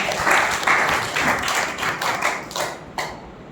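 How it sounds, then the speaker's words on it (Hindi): Audience clapping at a New Diet System health seminar, a brisk burst of many hands with a rhythmic, slightly uneven beat that tapers off abruptly after about three seconds. "चलो ठीक है, तालियां बजाइए आप लोगों के लिए।"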